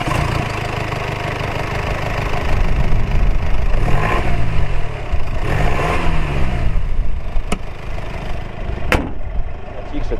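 Diesel engine of a Mercedes-Benz Vito 119 CDI 4x4 van runs loud and close, swelling in two revs over an idle, with a couple of sharp clicks near the end.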